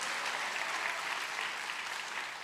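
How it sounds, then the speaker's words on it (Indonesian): Steady audience applause filling a church sermon hall, dense and continuous throughout with no pauses, moderately distant and even in level. "Tepuk tangan dong, mana yang bagian sponsor tepuk tangan tadi tuh?"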